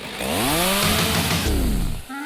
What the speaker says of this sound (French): J'utilise une tronçonneuse.